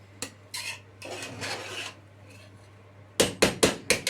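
Sweet rice tossed in a pot over a high flame: scraping and stirring strokes at first, then a quick run of five sharp metallic knocks and scrapes near the end, close by and with no talking.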